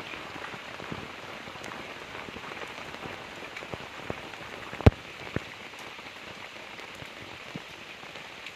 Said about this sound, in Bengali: ওমা কেমন বৃষ্টি হচ্ছে দেখো, এই দেখুন কেমন বৃষ্টি হচ্ছে